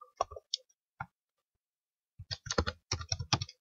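A computer keyboard typed on to enter a file name, a few scattered keystrokes followed after a pause by a quick run of crisp, close clicks.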